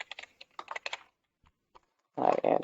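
Keys clatter on a computer keyboard as code is typed, quick bursts of close clicking separated by short pauses, ending in a louder flurry of rapid keystrokes.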